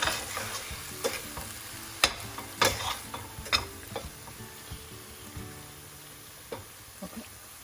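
An eggplant and potato curry sizzles softly in a pan, with several sharp scrapes and taps of a spoon early on that thin out into quieter cooking near the end.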